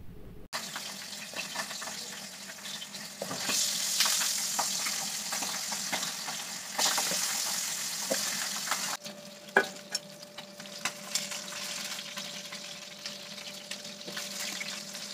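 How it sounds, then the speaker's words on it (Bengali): Salted, turmeric-rubbed fish pieces frying one at a time in hot oil in a home kitchen, a steady crackling sizzle with occasional sharp pops, clinks and a spatula scrape, no voices. "এবার মাছগুলো এক এক করে ভেজে নেব"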